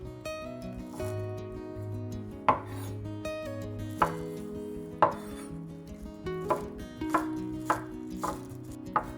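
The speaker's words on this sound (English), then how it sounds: "And cut into scallions." A knife chops scallions on a cutting board in regular, crisp strokes, close up and evenly spaced, over soft background music.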